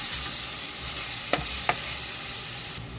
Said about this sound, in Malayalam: എന്നിട്ട് അത് നന്നായിട്ട് ഇളക്കി കൊടുക്കുക